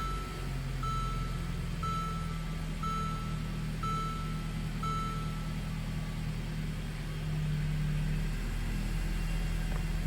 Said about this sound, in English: I'm gonna go ahead and start the car and see if we get that message